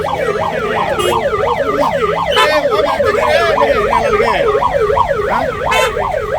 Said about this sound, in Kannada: ಆಂಬುಲೆನ್ಸ್ ತಯಾರಿ ಬಿಡಿ ಒಂಚೂರು ಆಂಬುಲೆನ್ಸ್ ಕಳಿಸ್ರಿ